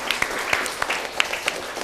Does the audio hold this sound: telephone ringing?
no